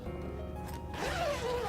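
A zipper on the soft pouch of a Kessler Pocket Dolly carrying case is pulled open in one smooth, close, quiet zip.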